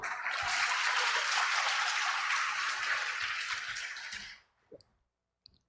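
A church audience at a teachers' lecture bursts into loud, dense clapping that holds steady for about four seconds, then cuts off sharply, leaving near silence with a couple of faint clicks.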